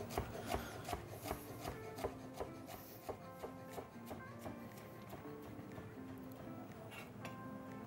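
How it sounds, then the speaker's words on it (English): A knife slowly cuts thin slices through a falafel wrap on a board, giving repeated soft scraping chops at an unhurried pace over quiet music. "And then slice very slow and fine."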